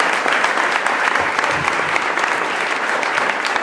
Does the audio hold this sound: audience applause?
yes